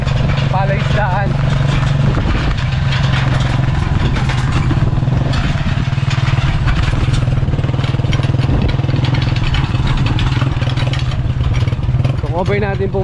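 Motorcycle ridden around a 120-hectare fishpond farm in Arayat, Pampanga, its engine droning steadily and loudly throughout with rattling clatter and wind rush, close to the listener.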